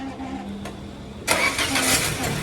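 A Peugeot car engine cranks and catches after a moment of quiet idle hum, jumping abruptly to a loud, steady running roar.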